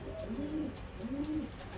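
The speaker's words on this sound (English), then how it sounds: "I'm gonna show you these top five birds right here." Racing pigeons cooing in a loft, two soft, low rolling coos close by over a steady background hum, with no talking.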